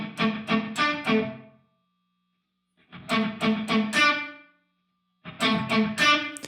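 An electric guitar plays through a Line 6 Helix 3.50 reverb, giving three bursts of distorted strummed chords, each ringing out briefly before fading into silence.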